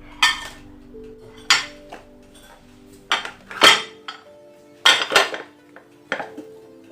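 A knife cuts through a Chinese-style chicken kachir loaf, rapping sharply on the plate or board beneath. The clinks and knocks come in irregular bursts, several close together, with no talking.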